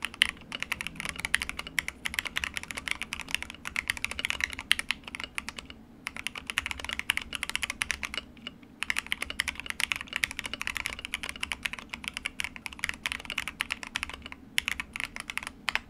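Steady, fast typing on an Akko Mod 007v2 keyboard with its stock aluminum plate and full foam fill, producing dense, even keystroke clacks with a couple of brief pauses, close and alone.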